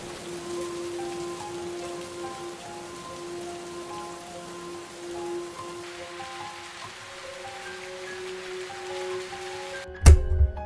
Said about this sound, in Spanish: La lluvia llegó sin avisar.